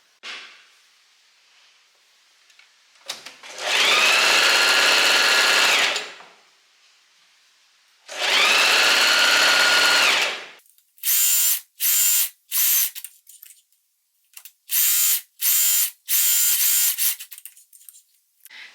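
Sewing machine stitching a long seam on a white maxi dress, running in two sustained bursts of several seconds each, then a string of short start-stop runs, loud and close with no talking.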